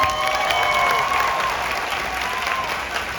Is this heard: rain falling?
no